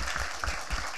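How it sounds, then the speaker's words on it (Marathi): An audience at an industry master class claps together, a brief, dense burst of applause filling the room. "याबद्दल आपण एक टाळ्या वाजवल्या पाहिजेत"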